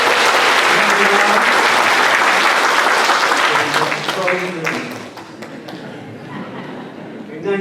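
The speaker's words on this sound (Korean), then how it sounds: "다시 한번 큰 박수를 부탁드립니다." Loud applause from a church congregation during a Sunday service welcoming visiting members, sustained clapping that thins and fades toward the end, with some voices mixed in.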